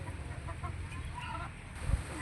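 Rhode Island Red and native chickens on a small farm cluck softly in the background over a low rumble, a few short calls scattered through the stretch.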